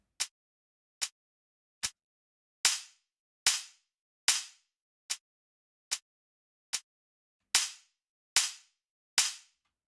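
Twelve sharp snare drum hits from a music mix ring out alone at a steady pace. Some strikes are cut off short by a noise gate, while others ring out with a longer tail as the gate is toggled off and on.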